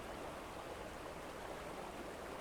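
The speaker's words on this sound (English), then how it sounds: "Awfully rough water" Rough, fast river water near a bend rushes in a steady, dense broadband wash, constant and fairly loud with no voices over it.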